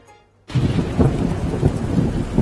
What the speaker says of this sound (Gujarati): શહેરમાં વીજળીના કડાકા સાથે વરસાદની તોફાની બેટિંગ જોવા મળી.